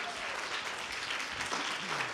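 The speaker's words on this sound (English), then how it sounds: "A round of applause, please, for Larry." An audience applauds Larry McCaffrey, chair of the board, at a gathering, a short, fairly soft wash of clapping with voices audible underneath.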